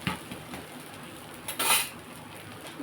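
Dosa flipped on a pan with a metal spatula: a few light scraping clinks over a soft background hiss, then one louder, sharp metallic scrape and clatter, all close by.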